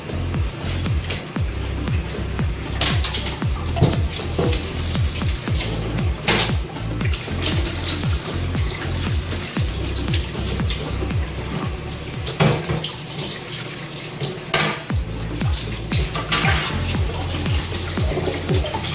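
Running tap water splashing over plates and dishes in a kitchen sink, a steady close wash with occasional clinks and sharper splashes throughout.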